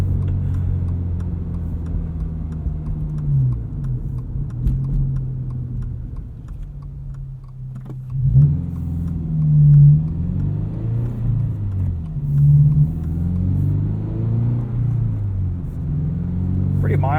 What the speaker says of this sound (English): Get some pops and burbles there.